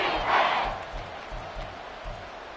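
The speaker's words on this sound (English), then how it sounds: "The Arrowhead crowd in full roar." A stadium crowd roars at Arrowhead in a Madden American football game, a broad, loud swell early that eases into a steady sustained roar with low thumping underneath.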